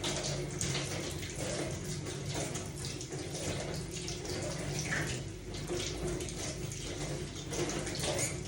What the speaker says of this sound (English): I've just washed my hands because I had touched it